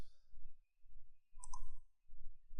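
Two quick mouse clicks close together, crisp and near, while navigating a software migration dialog on a computer, with faint background hum and breathing between.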